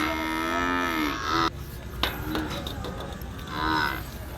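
Young buffalo calves in a farm pen moo in long, drawn-out bellows, one near the start and another near the end, over constant background noise from the barn.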